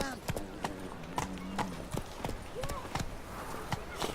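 Roach the horse trots with steady clip-clopping hooves through The Witcher 3, the rhythmic hoofbeats close and continuous, with a short whinny-like call and a voice speaking over them.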